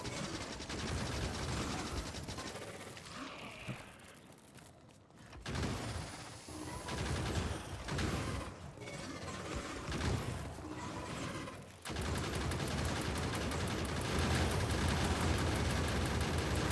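Automated gun turrets in Factorio fire at swarming enemies in a long, dense, continuous rattle that dips briefly partway through and then resumes louder and steadier, with no talk.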